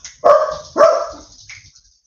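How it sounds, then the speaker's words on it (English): A dog indoors at home barks twice in quick succession, loud and close, followed by a fainter whine, with no voices over it. "This dog's driving me mad today, guys."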